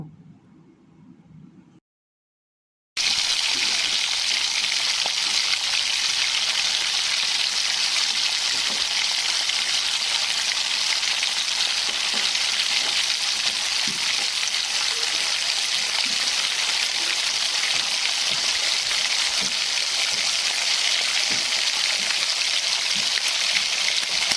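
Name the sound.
pabda fish frying in hot oil in a wok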